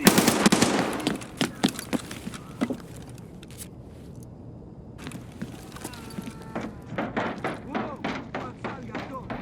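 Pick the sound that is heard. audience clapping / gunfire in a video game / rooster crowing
gunfire in a video game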